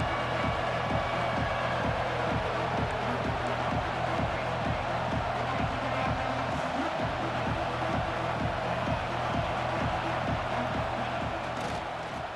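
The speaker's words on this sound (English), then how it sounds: "This crowd bringing the energy and noise early." A large American football stadium crowd roars steadily, a dense wash of noise with a regular rhythmic thumping running underneath.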